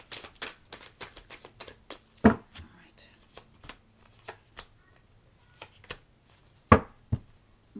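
Tarot cards shuffled and drawn from a deck in a quiet room, a run of soft riffling flicks and card slaps, with two sharper snaps standing out near and clear.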